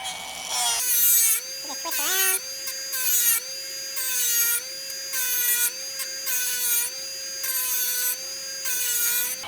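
Hand-operated drill bit sharpener running for drill press bits, a steady high motor whine with repeated bursts of harsh grinding as the bit is twisted against the wheel, loud and close.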